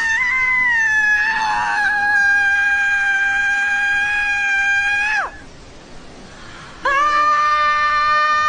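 A woman lets out a long, loud, sustained scream, then a second scream starts after a brief pause; no other talk is heard in between.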